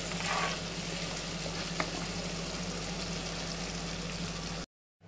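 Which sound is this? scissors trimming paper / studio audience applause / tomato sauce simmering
tomato sauce simmering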